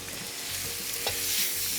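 Ground meat sizzles in a hot pan for shawarma-stuffed peppers, seasoned with salt and black pepper, as a spoon scrapes and breaks it apart; steady close frying hiss with soft stirring knocks and a brief louder scrape, no talking.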